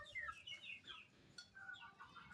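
Thai Shamo fighting rooster, injured after a fight, giving a few soft, faint clucks and chirps over a quiet background.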